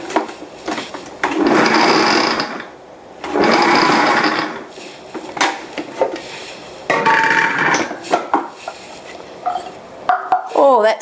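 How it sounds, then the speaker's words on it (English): Crystallized ginger pulsed down in a kitchen appliance for ginger and pineapple marmalade, several loud bursts of a second or two separated by quieter gaps filled with clattering and shorter pulses. "I bought it in fairly big pieces so I'm pulsing it down so that it spreads through the jam"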